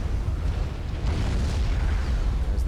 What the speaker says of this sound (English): There's the dual explosion there.